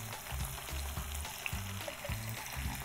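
Vegetables and garlic cook in a pan, a steady frying sizzle running throughout with occasional soft stirring knocks, close and moderately loud, no voices.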